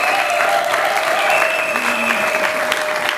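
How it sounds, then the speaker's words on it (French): Applause fills a hall as an audience claps steadily throughout, a dense, even patter with a faint sustained tone running beneath it. "On peut bien applaudir dans cette salle, s'il vous plaît."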